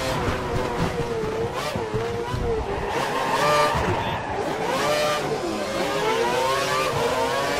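A Formula 1 car in the video game F1 2012 spins out at Bahrain, its engine whining and shifting pitch while tires squeal and skid, loud and continuous, with a voice talking over it.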